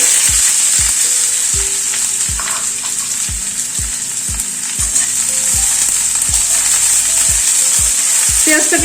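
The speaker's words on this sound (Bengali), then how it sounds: "সর্ষার তেল দিচ্ছি তেলটা গরম হওয়ার পরে পেঁয়াজটা দিয়ে দিচ্ছি" Onions sizzle in hot mustard oil in a wok on a gas stove, a loud, steady frying hiss with regular scraping knocks from a stirring spatula and no talking.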